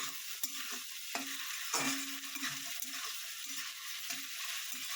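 Prawns fry in hot oil in a pan, giving a steady bright crackling sizzle with several sharp scraping clicks of a spatula as they are stirred, close and alone.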